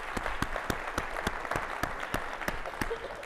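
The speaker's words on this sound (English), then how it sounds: "So let's give Klein Cain a big round of applause as well." Evenly spaced claps sound at a student-led talk event, KLEINTalks 2019, in a steady rhythmic beat with a light crowd murmur underneath.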